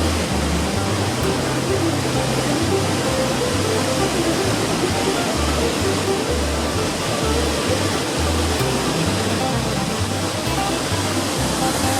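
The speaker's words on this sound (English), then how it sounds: "We love this waterfall." Steady roaring rush of a waterfall beside an old grain mill, loud and continuous throughout with deep low-end rumble and no breaks.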